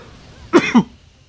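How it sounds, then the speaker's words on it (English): One person gives a brief, close cough in two quick bursts, loud against a quiet background. "coughing fit either."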